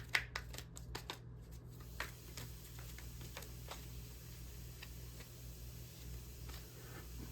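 Tarot cards are shuffled and drawn, giving a series of crisp, quiet riffling snaps and soft slides close by, clustered at first and then spaced out over a faint steady hum.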